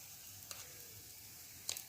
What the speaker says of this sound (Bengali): দেখুন নিচে বসে গেলে একটু এরকম করে নাড়তে হবে যতক্ষণ না এর জল ভাবটা শুকিয়ে আসে